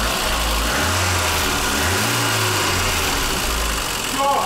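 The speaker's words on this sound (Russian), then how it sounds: "Выхлоп работает!" A VAZ 21099 car engine idles steadily with its exhaust running, a continuous low rumble that stays loud and close throughout, with slight swells in pitch and no one talking over it.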